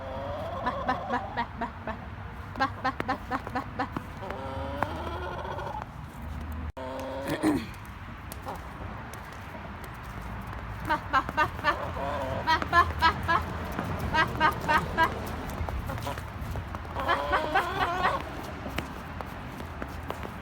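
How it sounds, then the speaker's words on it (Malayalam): A chicken clucks in short bursts and runs of calls, fairly close, mixed with people talking and a few footsteps. "കോഴി അവിടെ ഇരിക്കണ കോഴി"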